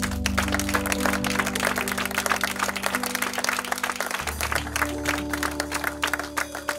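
A church congregation bursts into sustained, loud applause with scattered cheers during a consecration service, the clapping dense and steady over a held musical backing throughout.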